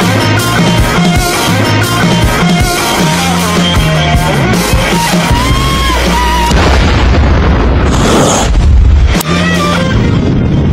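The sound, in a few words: bomb explosion in an anime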